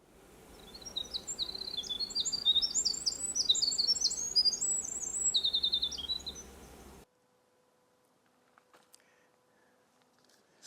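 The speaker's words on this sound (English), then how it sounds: "Winter wren, usually low, singing." Winter wren singing, a long rapid cascade of high bright trills and warbles lasting several seconds over steady background hiss, then falling silent.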